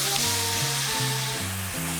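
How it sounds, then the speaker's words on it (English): White wine poured into a hot pan of fish over 300 degrees Fahrenheit, giving a loud, steady sizzle throughout with no voices. "then we're gonna hit them with a liquid to prevent them from burning"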